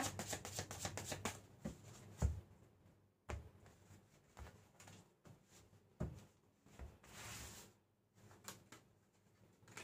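Tarot cards being shuffled by hand, with repeated riffling and sliding bursts of card noise alternating with brief pauses, close and fairly quiet, with no talking.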